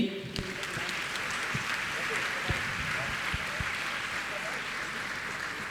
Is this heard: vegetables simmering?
no